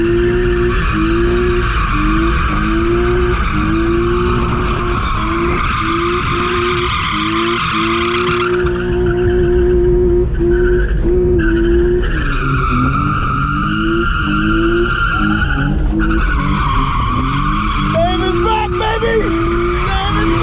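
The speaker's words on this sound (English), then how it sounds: "we're here with Dave, and you are driving a BMW." A BMW skids with loud tire squeal on track, sustained screeching tones that shift in pitch over a steady engine drone, close and continuous for the whole stretch.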